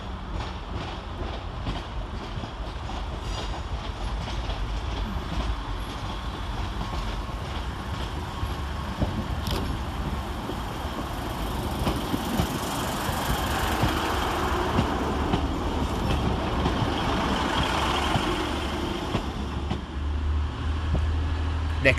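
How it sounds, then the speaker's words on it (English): A Northern class 150 unit, 150276, terminating at Sheffield railway station from Adwick: continuous diesel rumble and rolling noise building gradually, moderately near, with no clear speech. "150276, terminating with a Northern service from Adwick"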